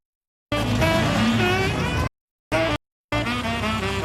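Classic cars, from street rods and muscle cars to rat rods, gather for a Friday night car club meet at a Bob's Big Boy. A loud, steady engine rumble with a revving tone cuts off twice for brief silences.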